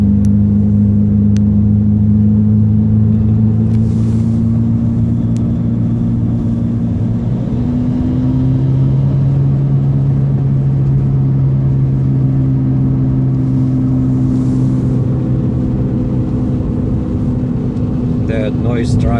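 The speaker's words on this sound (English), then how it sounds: "my car makes that noise in the back" Inside a moving car, a steady engine and road drone with a low rumble carries on throughout, its pitch shifting once partway as speed changes, with a faint noise from the back of the car mixed in.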